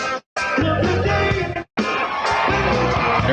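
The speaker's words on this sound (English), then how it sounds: "I want you to hear the crowd." A large crowd at the Republican National Convention cheers and whoops loudly over music, with a roaring wall of voices broken by two brief gaps.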